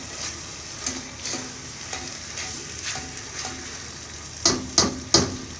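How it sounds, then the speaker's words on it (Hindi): Tomato paste frying with ginger-garlic paste in a pan over a medium flame while cooking dhaba-style chana dal: a soft continuous sizzle with periodic scraping stirs, then three louder clinks of the spoon against the pan. "फिर हम इसमें अपनी टमाटर पेस्ट डालेंगे।"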